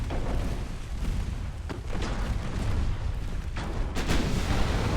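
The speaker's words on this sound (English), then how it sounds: "Ammo detonation. Flash fires." Heavy, continuous rumbling booms of ammunition detonating aboard a warship in Ultimate Admiral Dreadnoughts, a dense roar of loud blasts with sharper bursts near the start and again toward the end, no voices.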